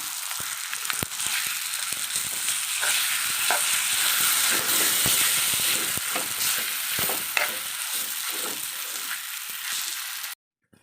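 Millet dough is stirred in a hot kadai on a simmering flame, a close scraping and sizzling with repeated rhythmic strokes of the spoon over a constant hiss, ending abruptly.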